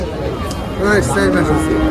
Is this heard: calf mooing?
yes